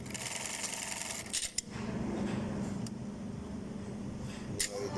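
An LK 1903ASS button attacher machine sews on a button with a steady mechanical whir, broken by a few sharp clicks as it starts and stops, heard up close.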